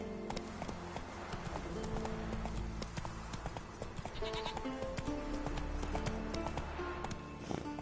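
Roach the horse gallops in The Witcher 3, a steady rapid clip-clop of hooves that continues throughout under a dense game soundscape, moderately loud and even.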